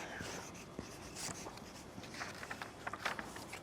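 An orange marker squeaks and scratches across a surface in short strokes and taps, close and quiet, with no talk.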